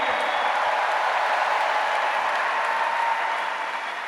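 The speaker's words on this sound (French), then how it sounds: "Bonne main d'applaudissement pour Charles Séguin." Steady applause from a large audience at a comedy show in an arena, a dense continuous wash of clapping that holds level for several seconds and eases slightly near the end, with no talking over it.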